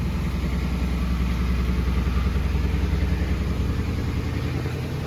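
A Mercedes car engine running nearby, a steady, even rumble with a low throb and no clear revving, continuous and fairly loud with no talking over it.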